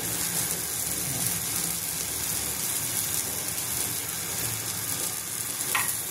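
Mixed lentil appe fry in a pan with a constant, even sizzle and crackle like light rain, close and steady throughout, with no talking.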